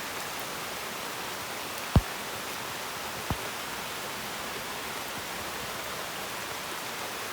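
Steady, even rain hisses down through a forest on a bird-hunting trip, constant and moderately near, broken by two brief sharp knocks with no voices.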